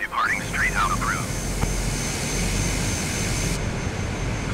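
A Cessna engine in Microsoft Flight Simulator 2020 drones as a steady broadband roar during a takeoff roll. A radio voice with a chirpy squelch is heard briefly at the start, then the engine noise continues alone.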